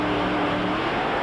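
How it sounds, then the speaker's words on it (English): Top alcohol dragsters at a drag strip build revs on the line, a loud continuous engine roar filling the short moment close by with no voices. "Revs building top alcohol dragsters."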